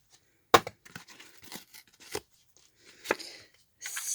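Scissors snip through fabric while cutting out round circles for a fabric spool craft project, giving sharp, close, intermittent cuts and rustles separated by brief pauses.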